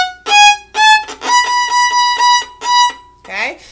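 Bowed string instrument, likely a violin, plays a short red finger pattern exercise of repeated sustained notes in a steady rhythm, close and clear, with a brief voice at the end.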